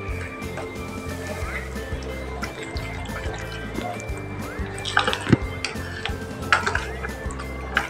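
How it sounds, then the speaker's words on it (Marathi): A spoon stirs raw mango panha pulp mixed with salt and cumin powder in a kitchen bowl, giving soft wet squelches and light scraping knocks against the container, close and continuous. "आता हे पुन्हा सगळं मिक्स करायचं."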